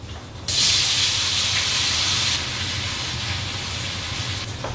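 Tofu hits hot olive oil in a pan and sizzles, a sudden loud hiss that starts abruptly and stays steady, easing slightly toward the end, heard on its own.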